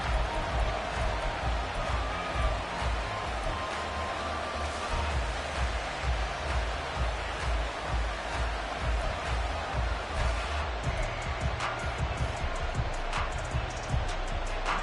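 Seattle Seahawks home crowd at an NFL game against Tampa Bay, a dense continuous roar filling the stadium at a steady high level throughout, with faint commentary voices beneath it.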